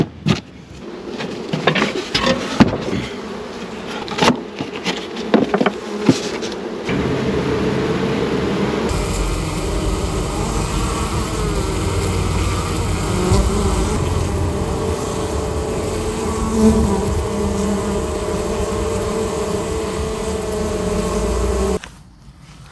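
Honey bees swarm and buzz around an opened hive with its frames out, a dense continuous drone close by, with knocks and handling clatter early on before the humming settles into a steady, loud buzz.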